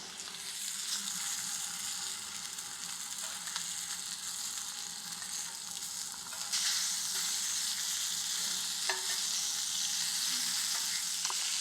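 Lamb chops cooking with herbs in a hot pan in a Provençal kitchen, giving a steady, close sizzle and crackle that swells slightly partway through, with occasional small pops and no talking.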